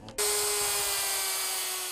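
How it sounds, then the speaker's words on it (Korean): A custom-built electric saw for billiard table tops starts abruptly and whines at a steady high pitch as it cuts through wood, loud and continuous. "원활한 작업을 위해 자체 제작한 당구대 상판용 전기톱이라고 하는데요"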